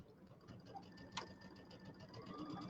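A sewing machine runs steadily, stitching a quarter-inch seam while piecing a quilted table topper. The motor hum and rapid needle patter are continuous and fairly quiet, with no talking.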